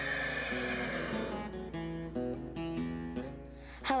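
An Arabian horse at a boarding stable whinnies and neighs in a run of rising, breaking calls, fairly close, with one last louder squeal at the end and no talking.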